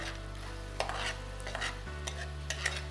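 Mutton frying in a pan for Afghani pulao gives a steady, close sizzle with stirring scrapes and a few sharper spits, under a low constant hum and with no talk.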